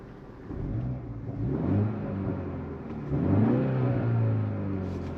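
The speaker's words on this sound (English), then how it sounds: "when you put it in sport, it'll actually open up the exhaust flap, but also kick in the fake pumped-in audio" BMW exhaust in sport mode with the exhaust flap open, a steady engine rumble and whir that swells with revs around the middle and again toward the end, heard up close with no voices.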